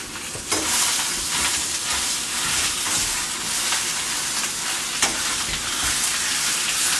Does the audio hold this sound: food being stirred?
yes